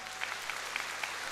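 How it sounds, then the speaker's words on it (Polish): A concert audience at a Silesian schlager show in Kępno breaks into steady, dense applause, with a full crowd clapping continuously at a moderate distance. "Kępno, duże brawo!"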